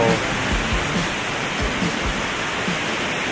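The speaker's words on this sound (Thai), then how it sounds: "ถึง น้ำตก เขวนรกแล้วนะ" Haew Narok waterfall at Khao Yai roars steadily, a dense, even wash of falling water close by with no pauses, with faint low thumps underneath and no clear talk.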